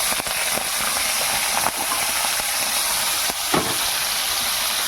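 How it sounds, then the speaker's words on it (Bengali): Prawns fry in hot oil with a continuous, close, hissing sizzle and a few brief crackles and pops. No one speaks. "ওই তেলের মধ্যেই বন্ধুরা আমি চিংড়ি মাছগুলো ভেজে নেব"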